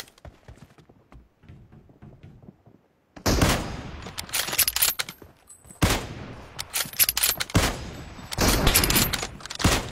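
Bursts of automatic gunfire in the mobile battle royale game BGMI, loud rapid volleys starting after a quiet opening and recurring in several sharp clusters.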